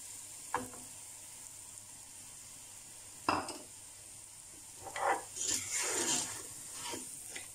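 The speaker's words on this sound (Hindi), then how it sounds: "अब मैं साथ ही इसके ना चीनी डालूंगी जो मैंने ये रेडी करके रखी है" Sugar goes into semolina frying in a pan for sooji halwa, with a steady soft sizzle broken by a few scraping stirs and a brighter hiss near the end, close and fairly quiet, with no talk.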